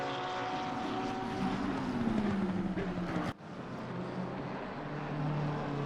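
Engine note of a Ferrari race car in a racing video game at the Nürburgring, held steady and loud, with a sharp cut around the middle as it downshifts before the drone picks back up.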